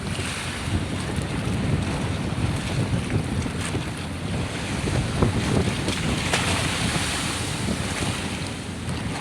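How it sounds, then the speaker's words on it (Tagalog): Strong, steady wind roars across the microphone over crashing sea waves out on the open sea, continuous and loud throughout. "Hangin yata ito, ang hangin ay 50 bugso."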